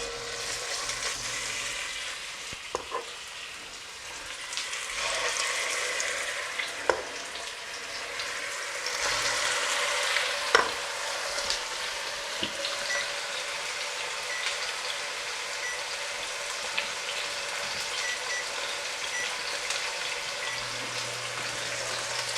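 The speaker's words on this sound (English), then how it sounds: "There we go, here goes the sizzle." A beef roast sears in a hot pan, giving a steady crackling sizzle with scattered sharp pops over about twenty seconds, close and fairly loud, with no one talking.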